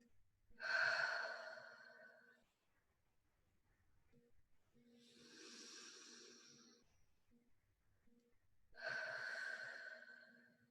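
Three slow, deep belly breaths, each a soft airy inhale-exhale lasting a couple of seconds, separated by quiet pauses; close and gentle, with no talking.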